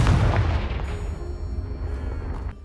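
A Confringo fire spell blasts in Hogwarts Legacy, a loud booming explosion up front that rolls into a rumbling, crackling decay lasting a couple of seconds, no voices over it.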